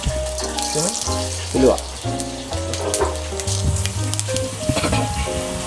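Fennel and fenugreek seeds crackle and sizzle steadily in hot coconut oil in a pan, a continuous frying hiss under someone speaking over background music.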